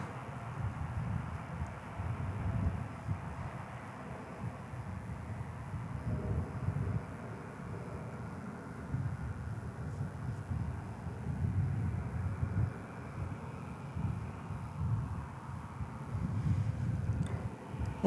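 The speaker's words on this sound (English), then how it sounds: "That's American Flight 1393, just touching down from Silao in Mexico." American Airlines Flight 1393 touches down at DFW Airport with a low, rumbling jet drone that swells and fades in waves over a long stretch, moderately loud, with light wind noise.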